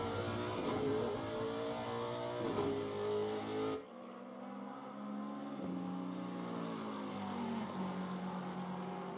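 GT3 race cars, including a Lexus, roar past at Monza, with a loud engine note that cuts off sharply and is followed by steady high revving and gear changes at a distance.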